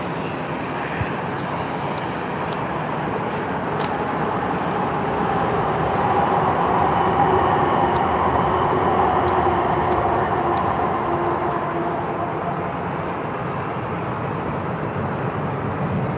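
Arriving airplane at a Southern California airport heard from a parking structure, a broad steady jet roar that swells slightly mid-clip and holds at moderate distance, with faint ticking in the background.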